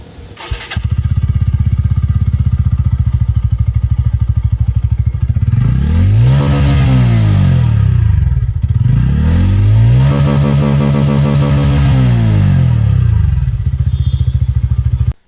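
A Bajaj Pulsar N160 motorcycle with an underbelly exhaust starts up close by and idles with a steady thrum, then two smooth revs rise and fall before the engine cuts off.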